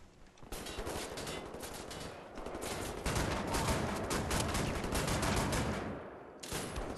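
Heavy shotgun blasts and a barrage of weapon fire fill a Wolfenstein: The New Order firefight, dense and continuous for several seconds before a short lull and a final burst.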